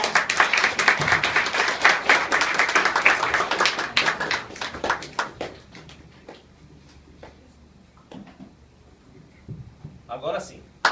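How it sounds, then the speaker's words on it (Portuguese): Church congregation applauding a member consecrated as a cooperator, dense clapping for about five seconds that thins to scattered claps, with voices talking over it. "Uma salva de palmas para ela, irmãos."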